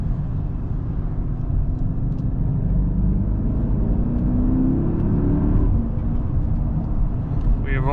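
Mercedes GLE 580 V8 engine revving inside the cabin, a steady loud rumble with a rising tone as revs climb, accompanied by steady road noise.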